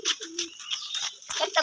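Pigeons on a village farm give short, soft coos and fluttery chirps in quick, broken bursts, close by and fairly quiet.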